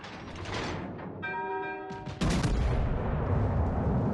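Battleship Kongo's main guns fire in World of Warships: Legends: after a ringing tonal chime, a single loud, heavy boom lands at about two seconds, then a thick rumbling roar carries on to the end.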